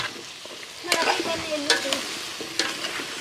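Vegetables sizzle and crackle in a hot pan while being stirred, with scraping spatula strokes and bursts of frying close by.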